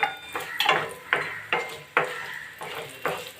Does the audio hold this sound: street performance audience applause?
no